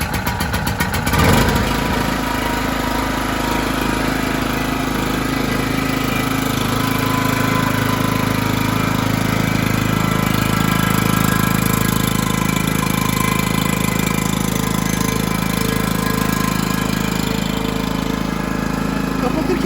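A small petrol engine on a POWER BT-2500 generator runs steadily and loudly nearby, with a brief bump early on as the throttle opens, then an even drone throughout.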